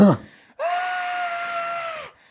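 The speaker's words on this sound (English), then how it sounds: "I used to scream really loud." A person lets out a single loud, sustained scream of about a second and a half, sharp and steady in pitch, preceded by a brief vocal sound, with near silence around it.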